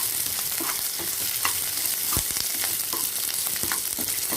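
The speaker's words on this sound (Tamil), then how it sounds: "நம்ம வெட்டி வச்சுருக்கிற பிரண்டை அதையும் போட்டு நல்லா வறுக்கணும்" Chopped adamant creeper (pirandai) fries in a pan, a steady close sizzle with soft scraping stirs throughout.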